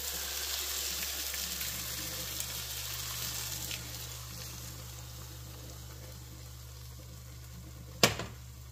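Chilaca chile and onion frying together in a pan, a soft continuous sizzle that holds steady and slowly eases, close by, with one sharp knock near the end.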